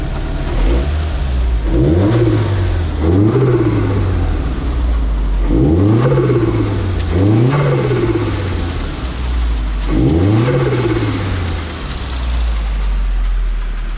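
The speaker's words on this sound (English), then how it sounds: "Give it a little rev and see what happens." Nissan 180SX engine fitted with a new S15 T28 turbo is revved repeatedly in short bursts. Each rev rises sharply and falls back to a steady idle, about six close, loud blips with no talking.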